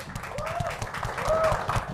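An audience claps for comedian Sandi at a stand-up comedy show in Ciledug, a moderate, uneven burst of applause that runs under voices and brief whoops.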